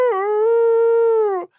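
A hound dog sitting on a bed lets out a single loud, sustained howl, steady and mournful for over a second before cutting off, up close and alone.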